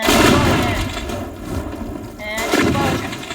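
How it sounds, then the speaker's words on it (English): Explosions in the destruction video game Teardown, heavy booming blasts at the start and again near the end with rumbling debris in between, loud and close. "explosion. And explosion."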